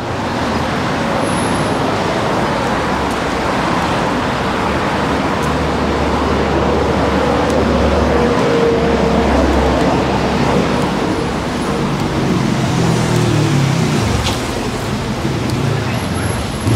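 Cars passing on a city street in Glebe, Sydney, a steady, loud wash of traffic noise with engines rumbling low and vehicles swishing by continuously, with no clear pauses.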